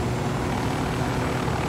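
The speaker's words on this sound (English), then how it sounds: "Get into the chopper!" A video game helicopter sounds in a co-op military shooter set in Bolivia, with a steady whirring rotor and engine drone holding at a constant level and no speech.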